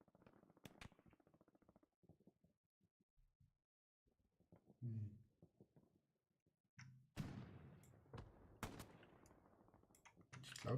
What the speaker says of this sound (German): weil ich höre immer Schüsse